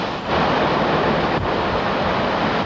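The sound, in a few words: hurricane wind and waves on the coast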